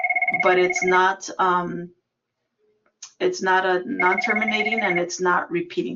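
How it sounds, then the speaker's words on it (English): A phone rings in a math lecture hall, a steady electronic ringtone repeating in bursts under a lecturer's continuing speech, with a short gap of near-silence in the middle. "So I apologize about my phone here."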